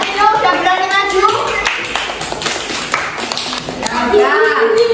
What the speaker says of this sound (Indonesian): Tepuk tangan buat Vino.